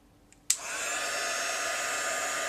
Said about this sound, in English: I'm going to grab my heat gun